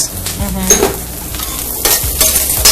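Carrots sizzle and fry in a hot pan after ginger is added, with a spatula scraping and stirring in short bursts, close and loud, no voices.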